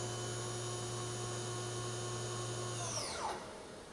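A Bridgeport-Hardinge vertical machining center hums steadily with a tonal mechanical drone, then a brief falling whine as the spindle winds down during a tool change, followed by a quieter lingering hum.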